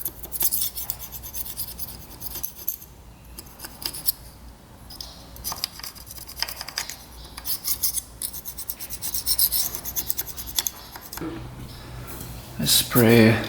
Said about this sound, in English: Razor blade scraper.